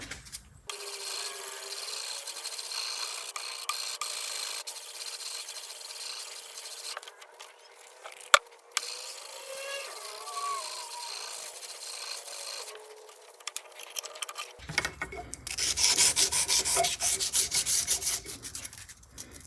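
A knife blade is sanded by hand with 400 grit sandpaper, a close, continuous scratchy rubbing with quick back-and-forth strokes, one sharp knock partway through and a brighter, rougher stretch near the end.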